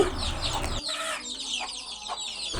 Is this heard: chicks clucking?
yes